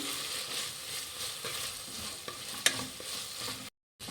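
Chunks of potato frying in a pan for akki usli, a steady sizzle with scraping stirs and one sharp clink of the utensil against the pan, followed by a brief cutoff into silence.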